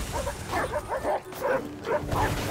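Dog pups yip and whimper outdoors in the Alaskan wilderness, a rapid series of about six short, high yelps in quick succession, close and fairly loud, with a little human voice mixed in.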